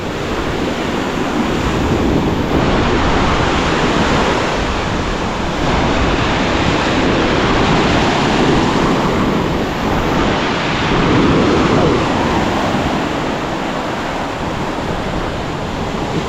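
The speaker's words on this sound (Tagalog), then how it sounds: "Ito na ang pag-uumpisa ng laki ng alon." Heavy ocean surf surges and crashes continuously as a storm builds, the waves growing rougher, with strong wind buffeting the microphone throughout and no voices.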